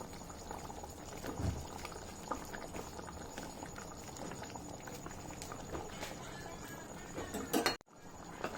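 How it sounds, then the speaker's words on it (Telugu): A mushroom masala curry simmers in a pan, giving a soft, continuous bubbling and popping patter at low volume, with a brief clatter near the end. "కర్రీ అయితే ఉడుకుతుంది కదండి"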